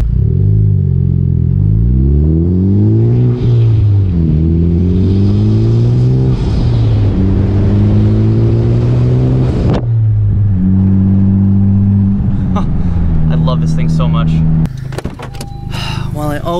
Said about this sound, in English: I'm gonna get you guys some exterior clips of me passing by with the Type R.